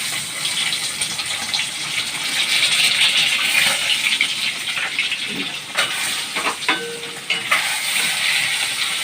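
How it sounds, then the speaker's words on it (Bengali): Large double-yolk eggs fry in a hot pan with salt and turmeric, giving a steady, fairly loud sizzle with a few sharp spatula clicks and scrapes toward the end. "আগে নুন হলুদ দিয়ে ডিমটাকে ভাজবো।"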